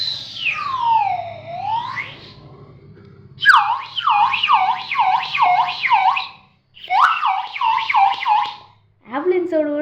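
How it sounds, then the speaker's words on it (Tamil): An ambulance-style siren wails loudly and close by in rising and falling sweeps, broken into several bursts with short silent gaps between them. "ஆம்புலன்ஸோட கூட வருது கைஸ்."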